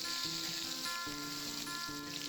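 A tablespoon of unsalted butter sizzles in a hot non-stick pan, a steady close hiss and crackle heard alone throughout with no talking.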